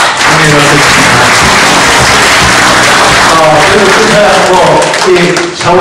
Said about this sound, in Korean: 여러분 박수를 한번 보내주셨습니다